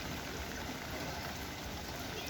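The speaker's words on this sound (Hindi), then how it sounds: "बारिशें शुरू हैं हर तरफ" Steady, faint broadband hiss of heavy rain and water running on a flooded road in Swabi, Pakistan, an unbroken wash with no distinct drops standing out.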